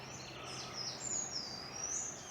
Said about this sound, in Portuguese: Os passarinhos estão mais longe porque para procurar comida